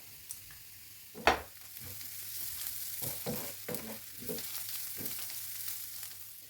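Carrots and onion fry quietly in a pan; a faint, low hiss runs under irregular scrapes and knocks from the stirring spoon, with one sharper clack near the start.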